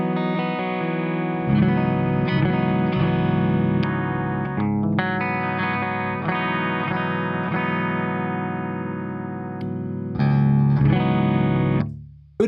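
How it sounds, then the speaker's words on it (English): An electric guitar plays through the clean channel of an Orange amp with a compressor set high, giving sustained, even-level chords and notes. The sound is loud and close. A short pause comes near the middle, then the playing resumes and ends abruptly. "So I've got the comp dialed pretty high."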